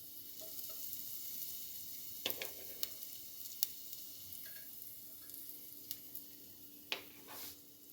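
Minced garlic sizzles softly in a pan over medium-low heat for chicken porridge, a faint steady frying hiss broken by occasional clinks and stirring taps.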